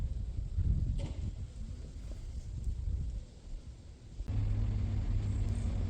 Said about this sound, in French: Lotus Elise S Sport. Voilà, certes, couleur jaune.